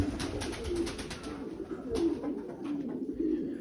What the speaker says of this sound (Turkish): Burada erkek güvercinlerimiz